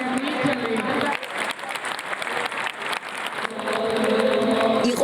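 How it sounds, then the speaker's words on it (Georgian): Applause follows a Georgian choir's concert in Italy: dense, sustained clapping from an audience fills the space, swelling near the end. "იყო ძალიან ბევრი ტაში"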